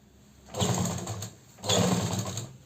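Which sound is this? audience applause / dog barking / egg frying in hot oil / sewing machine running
sewing machine running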